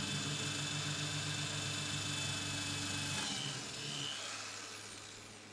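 A corded electric drill whirs steadily at moderate volume while repairing a Case 6232 pocketknife, its motor tone dipping and winding down near the end.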